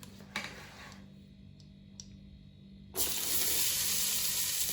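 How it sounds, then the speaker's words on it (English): Rice poured into a pot of hot melted butter taken off the stove, a quiet lead-in with a few small clicks, then a sudden loud, sustained sizzling hiss that continues to the end. "we're going to add the rice now"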